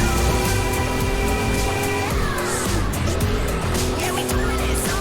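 Car engine in the Forza Horizon 5 racing game, set in Mexico, revving steadily through the gears with a shift partway through and faint tire noise, loud and continuous with no talking.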